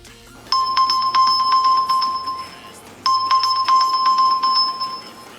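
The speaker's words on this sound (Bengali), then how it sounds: "আপনি এখানে ক্লিক করে ফোনটাকে রিং করাতে পারবেন।" A phone rings after being triggered by a OnePlus Watch's find-phone feature: a bright electronic ringtone plays in two loud bursts of rapid repeated tones, separated by a short pause, with no talk.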